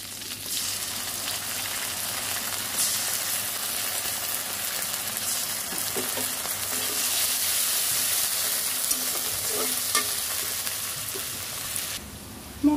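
Ginger garlic paste sizzles and fries with onions in a pan, a steady crackling hiss that goes on throughout, with brief stirring scrapes and no talk.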